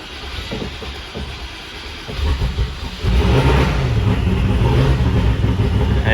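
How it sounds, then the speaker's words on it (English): An old 4x4 truck engine, just fixed with new spark plugs, cranks and then catches, settling into a loud, rough, continuous running rumble that grows stronger after a couple of seconds. "It's time to try to start the truck and see what happens."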